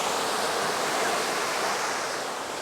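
Sea waves at a beach in Hikkaduwa, Sri Lanka, make a steady, loud, close surf roar: continuous washing noise with no break and no voices.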